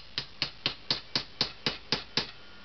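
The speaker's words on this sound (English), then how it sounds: "Take a special made tool and take the adjustable hammer, calibration hammer, and tap it." A calibration hammer taps a part into place on a CX500C carburetor: nine crisp, evenly spaced close taps in steady rhythm, alone with no talk.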